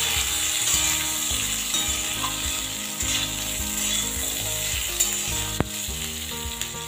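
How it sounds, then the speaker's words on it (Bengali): Potatoes and drumsticks frying with salt and turmeric, a continuous close sizzle with scraping stir sounds and occasional clinks of a utensil against the pan, with no speech. "নুন আর হলুদ দিয়ে কিছুক্ষণ ভেজে নিয়েছি।"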